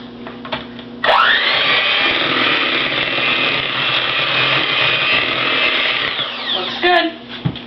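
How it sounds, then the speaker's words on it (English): An electric mixer whirs up to speed and beats cookie dough for a quick mix of about six seconds, then winds down, loud and close, with a few handling knocks before and after. "Give that a quick mix."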